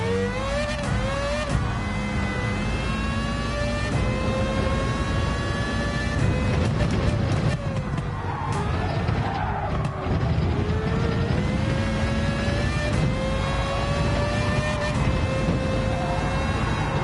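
A car's S-Space engine running steadily and loudly, its pitch rising and falling through revs with harmonic whine, continuous throughout with no talk.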